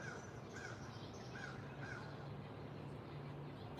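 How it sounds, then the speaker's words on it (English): A black crow caws four times in a regular rhythm, faint and distant over a quiet outdoor background. "Heard the black crow."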